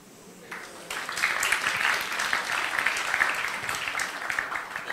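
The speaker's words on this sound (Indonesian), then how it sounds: "Itu cara tepuk tanganmu kayak menghina itu. Tepuk tangan yang bener lah." A church audience breaks into applause after a faint start, the clapping swelling quickly into a full, dense, sustained round that holds steady to the end.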